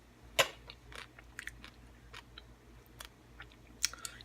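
Close, faint crunching and chewing of thick, crunchy food with chia seeds, with irregular bites and a couple of sharper crunches over quiet background.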